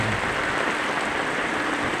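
Heavy rain pours down steadily in the Bicol region, a dense, continuous hiss of drops drumming on surfaces, loud and unbroken throughout with no voices.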